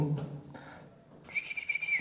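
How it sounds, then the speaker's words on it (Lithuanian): A small clay toy whistle, sold at a craft stall, gives one sustained shrill tone of about a second. It follows faint nearby talk. "švilpukai."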